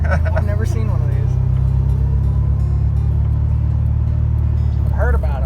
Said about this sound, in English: if you just stop, you don't have to put it neutral and it just idles